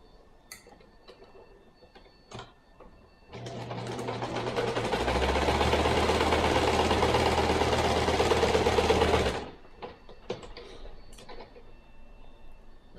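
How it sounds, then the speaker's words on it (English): Sewing machine stitching along a fabric edge of a stuffed hooved-animal body, a steady mechanical whirr running for about six seconds between quieter ticks and handling clicks. "And then we sew along this edge."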